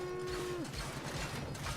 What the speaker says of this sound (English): Come on now, be a good cow.